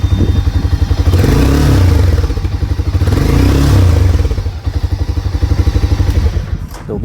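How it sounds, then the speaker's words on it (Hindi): A Harley-Davidson X440 motorcycle idles close by with a thumpy, bassy exhaust note, swelling through a couple of revs before settling back to a loping idle, loud and alone. "ओके, सो इस टाइप का कुछ एग्जॉस्ट नोट है। And if you just rev it,"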